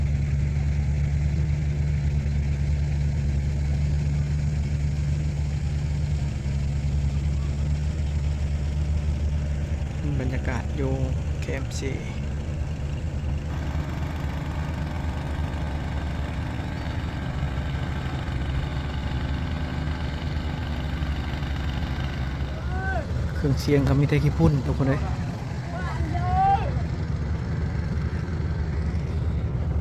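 A small boat's engine runs at a steady low drone while crossing to a camp, holding under ongoing talk, with a few brief sharper mechanical and splashing bursts partway through.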